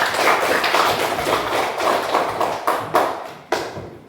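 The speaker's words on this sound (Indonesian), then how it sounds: "Tepuk tangan untuk anak semua." A classroom of fourth-grade students clapping together, loud and fairly close, a thick run of claps that thins into a few separate, sharper claps near the end.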